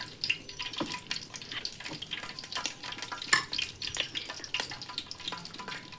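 Coconut oil, already used to fry chicken, is poured into a pan and heats while making dragon chicken. Soft liquid pouring and gentle sizzling come with scattered clinks and stirring scrapes, close and fairly quiet.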